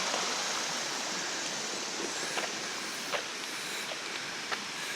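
Clear, shallow stream water flows steadily beneath the Natural Bridge in Virginia, a constant broadband rush with faint splashes, moderately quiet and uninterrupted.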